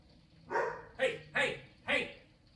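A dog barks four times in quick succession, close by and fairly loud, each bark a short sharp burst.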